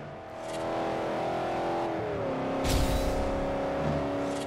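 Car engine in the Forza Horizon racing game drones steadily at high revs, pitch shifting down around a gear change, with a brief louder whoosh partway through; no talking.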